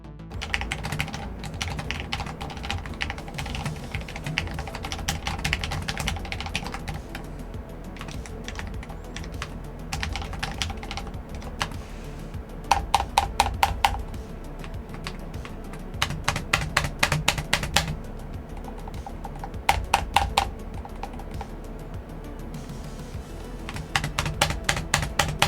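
A low-profile wireless MX 10.1 keyboard with PBT keycaps is typed on steadily, producing quiet-to-moderate clicky key presses in close, fast runs with occasional louder bursts, no voices over it.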